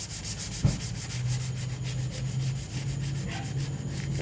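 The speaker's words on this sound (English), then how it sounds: "sanding, and more sanding." Steady back-and-forth sanding of Bondo filler on clone trooper armor, a continuous close rubbing hiss with one sharp knock near the start, alone without talk.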